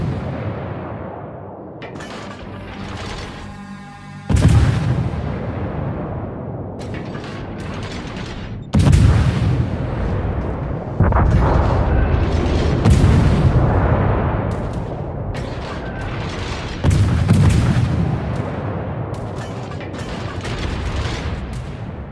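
Naval artillery in World of Warships, US Navy ships firing: deep booming salvos land every few seconds, each a heavy blast rolling into a long rumbling decay, with a brief tonal hum before the first.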